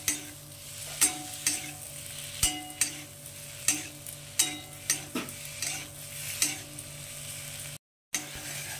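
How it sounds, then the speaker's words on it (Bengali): Dried kasuri methi stirred into spiced potato masala frying in a pan with bitter gourd: a soft steady sizzle punctuated by regular spoon scrapes and taps against the pan, about one per half second. "তো কসুরি মেথিটা এখন মশলাটার সঙ্গে একটু ভালো করে মিশিয়ে নেব।"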